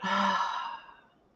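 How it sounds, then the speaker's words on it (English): A single big exhale of a breathing exercise, a loud, breathy sigh that fades out over about a second, close and on its own. "just a big breath in and a big breath out."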